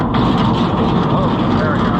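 New Holland 352 grinder mixer with its up auger engaging, a loud steady mechanical roar with a heavy low drone that runs continuously and close, with voices talking under the noise.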